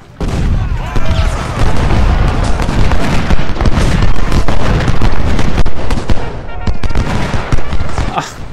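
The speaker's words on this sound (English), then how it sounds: "Oh, they have artillery in the front." Heavy artillery and gunfire from the Ultimate General: Civil War battle at Malvern Hill roar loudly and continuously, dense overlapping booms and crackles filling the whole stretch with a brief dip near the end.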